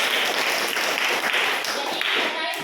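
A classroom audience claps together during a lesson, producing a brisk, continuous patter of hands at a fairly loud, steady level that fades slightly toward the end, with some voices mixed in.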